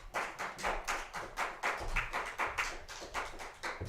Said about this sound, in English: put your hands together and give Johnny Hunt a nice round of applause